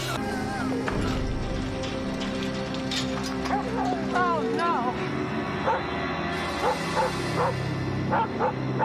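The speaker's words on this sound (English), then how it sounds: "Can one of you shut this dog up?" A dog barks and whimpers close by in short yips and whines scattered through the scene, mixed with a voice and background sound.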